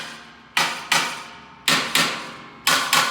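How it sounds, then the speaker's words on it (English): A small hammer gently taps the bolts on the door lever arm of a Jayline UL200, making five crisp metallic knocks in two quick pairs and a single, each ringing briefly. "We're going to hit these bolts, but not very hard, so we're just tapping them gently."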